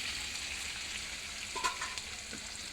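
Chicken sizzles in hot oil with a dense, close crackle as garlic paste is added a little at a time, with a brief splutter partway through and a light scrape of stirring.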